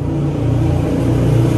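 A car fitted with a newly bought exhaust passes close by, its deep engine rumble loud and steady throughout with slight revving swells, no voices over it.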